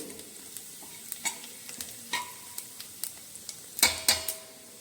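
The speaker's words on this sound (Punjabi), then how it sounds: "ਤੇਲ ਵਿੱਚ ਅਸੀਂ ਜੀਰਾ ਤੇ ਜਵੈਨ ਪਹਿਲੇ ਭੁੰਨਾਂਗੇ ਇਹਨੂੰ" Cumin and carom seeds roasting in hot oil in a pan for masala okra give a steady close sizzle dotted with sharp crackling pops and light utensil clinks, swelling into a louder spitting burst near the end.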